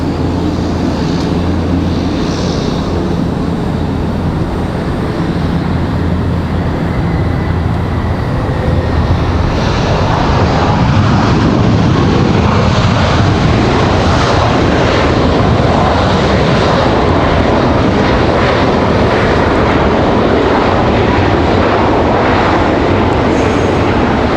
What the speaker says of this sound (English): FedEx, our last departure.